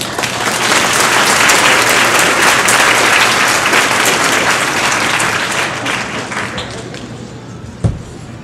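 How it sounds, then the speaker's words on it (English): A large crowd at a doctorate in clinical psychology graduation ceremony claps loudly and continuously, the dense applause slowly thinning toward the end, punctuated by a single sharp knock. "please give a round of applause to our doctoral"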